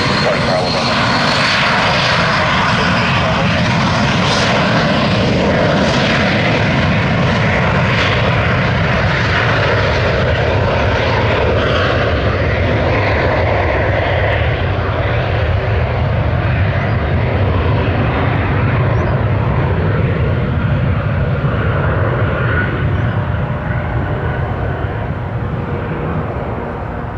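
A Piaggio P.180 Avanti twin-turboprop roars loudly and continuously at very close range on the runway at Tampa, a steady broadband engine and propeller drone that holds strong for the whole stretch before easing slightly at the end.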